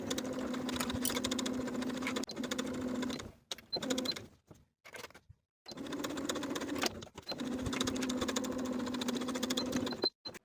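Sewing machine stitching a yoke seam on a peplum top, rapid rhythmic needle chatter in several close, loud bursts separated by brief pauses for pivoting.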